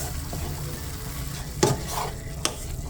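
Browned ground turkey sizzles quietly in a pan for an unstuffed cabbage casserole while a utensil scrapes and clacks against the metal in two sharp knocks, close up with no talking.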